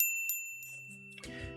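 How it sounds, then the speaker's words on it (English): A small bell above a cafe door in the game Katawa Shoujo gives a bright, clear ring at the start and quickly fades. Soft low tones follow. "A little bell above the door signals my arrival to an empty counter."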